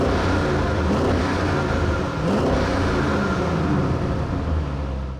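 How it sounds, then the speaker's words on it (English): Audi RS6 Avant GT wagon, its engine blipped in short revs, loud and close, the throaty roar swelling and falling a few times over a dense continuous rumble. "Take a listen to a few short revs from the RS6 GT."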